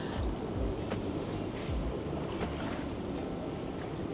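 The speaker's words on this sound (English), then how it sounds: "Water going side to side." Pool water sloshes from side to side in the splash pool on the Sapphire Princess's sun deck 15, a steady washing roar with low rumbling surges under constant wind noise.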